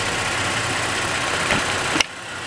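A 2018 Toyota car engine idling with a steady, even hum at close range, then a sharp click as it cuts off near the end.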